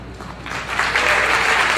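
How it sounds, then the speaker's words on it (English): Audience applause at a horror film anniversary convention panel, rising from a light patter into a loud, dense wash of clapping that continues steadily to the end. "you should applaud yourself"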